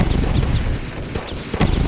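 Rapid clip-clop of horse hooves in the Deer Simulator video game, a steady galloping rhythm that is loud and close, with no talk over it.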